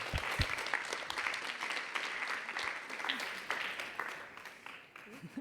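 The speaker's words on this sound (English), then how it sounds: "So Samantha, Delfina, Sam, and Ennikukka, please give them a big round of applause." Audience clapping to welcome a four-person panel at a talk on regenerative creativity, a moderate round of applause that holds steady and then tapers off, heard at a distance.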